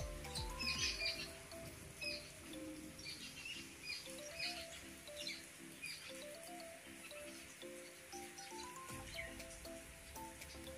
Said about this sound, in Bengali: কত পাখি যে আসছে।